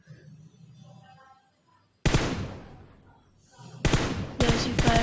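Bursts of M416 rifle fire ring out in PUBG Mobile, three loud, close volleys of rapid shots with sharp onsets and short decaying tails, after a stretch of quiet ambience.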